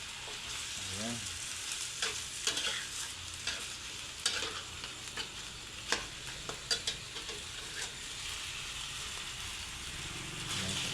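Food frying in a pan while being stirred, a steady close sizzle with irregular scraping and clinking of the utensil against the pan.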